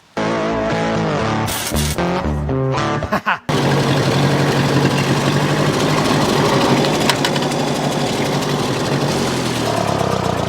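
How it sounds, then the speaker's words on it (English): An old tractor engine runs in a vineyard. After a few seconds of choppy sounds it settles into a loud, steady, close rumble with a rattling buzz. "What a lovely old tractor."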